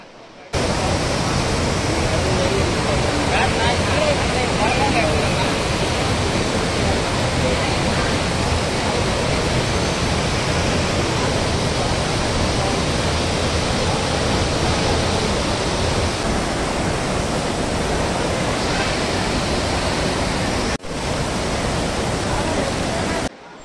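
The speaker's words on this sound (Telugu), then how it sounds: "సో వాటర్ ఫాల్స్ చాలా బ్యూటిఫుల్గా ఉంది కదా, ఇంకా చాలా బాగుండింది." Heavy waterfall at Kapila Theertham in Tirupati, flooding after a cyclone, gives a loud, unbroken roar of crashing water that fills the whole stretch, with only a momentary dip near the end.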